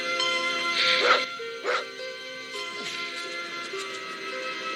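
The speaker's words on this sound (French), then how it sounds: "Oh, le chien." A dog barks twice in quick succession, sharp and fairly close, in The Incredible Hulk Returns film, followed by softer yips and whimpers over a sustained musical background.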